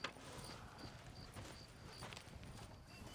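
Horse hooves clip-clop steadily in Red Dead Redemption, a rhythmic trotting patter close by over a continuous outdoor ambience, with a faint whinny-like sound mixed in.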